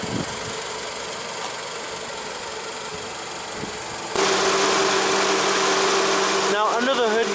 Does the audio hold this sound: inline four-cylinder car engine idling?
yes